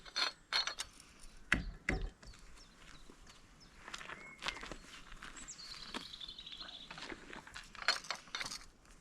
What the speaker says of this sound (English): So we've got a box spanner that goes in on the nut on the outside